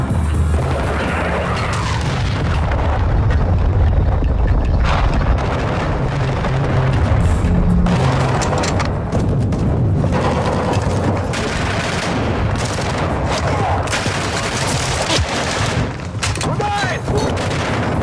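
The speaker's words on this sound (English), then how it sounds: "Friendly cruise missile inbound." Cruise missile strikes detonate in Call of Duty Modern Warfare 2 (2022) multiplayer: loud, continuous rumbling booms overlap with bursts of gunfire, with game voices mixed in.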